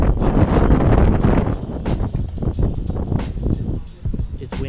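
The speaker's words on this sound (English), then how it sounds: "It's windy outside" Wind blows hard outdoors, gusting and buffeting a close microphone in loud, uneven bursts, with people talking underneath.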